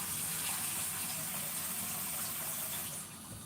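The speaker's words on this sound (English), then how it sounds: "Let's get your pan, fill it up with some water." Steady rushing of water pouring into a cooking pan for soup, a continuous close gush that eases slightly toward the end.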